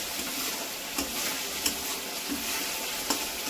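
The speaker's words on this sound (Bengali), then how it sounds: "তাও দেখো আমি ভালো করে একটু কষিয়ে নিচ্ছি" Spice masala stirred and fried in hot oil for doi potol, a steady broadband sizzle with a few sharp scrapes of the spoon against the pan, close and continuous with no voices.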